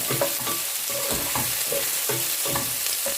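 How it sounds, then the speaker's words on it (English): Onions frying in a pan for a chicken curry, a steady close sizzle broken by repeated scraping stirs of a utensil against the pan at a loose rhythm, with no talking. "We will cook these onions till they become brown"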